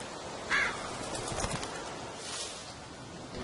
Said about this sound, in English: Puto cuervo.